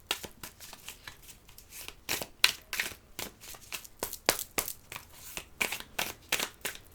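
A deck of tarot cards is cut and handled, giving a run of quick, close, crisp riffling and slapping sounds in an irregular rhythm, with no voices.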